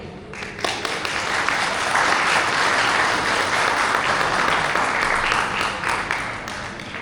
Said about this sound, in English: So let's give a round of applause once again.